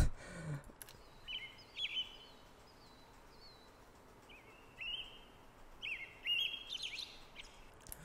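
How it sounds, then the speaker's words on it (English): Scattered bird chirps and tweets added to an EDM track, over a soft, low hiss, several short calls spread across the stretch with no music evident. "I added sounds of birds."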